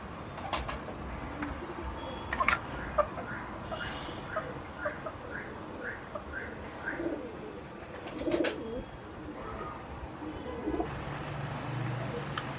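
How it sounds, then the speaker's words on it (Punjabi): Ferozpuri pigeons coo in a steady series of soft, rounded calls near the mic, with scattered clatter and a few faint background voices. "ਫਿਰੋਜ਼ਪੁਰੀ ਕਬੂਤਰ, ਪੁਰਾਣਾ ਕਬੂਤਰ"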